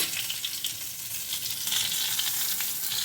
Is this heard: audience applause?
no